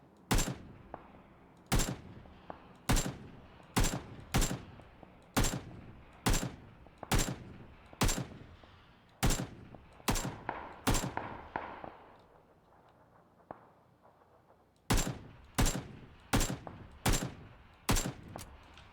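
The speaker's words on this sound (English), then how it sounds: "Dino versus Goth gunfight going on." Gunfight in the video game PUBG, with sharp close gunshots fired in steady evenly spaced bursts, a pause of a few seconds, then another run of rapid shots.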